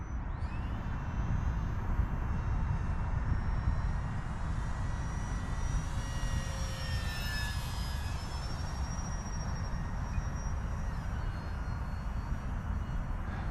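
An Arrows Hobby P-51D Mustang 850mm RC model warbird flies overhead, its electric motor giving a steady whine that shifts pitch as it passes, heard against continuous outdoor wind noise.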